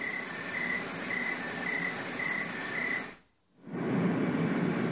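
Meadow ambience from an Ecotones sleep machine: steady chirping crickets pulse in a regular rhythm over a soft continuous background, with a short gap before a different wash of sound begins.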